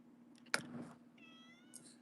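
A pet cat meowing close by: a short call, then a sharp loud meow followed by a longer drawn-out one and a brief final chirp, in a quiet room.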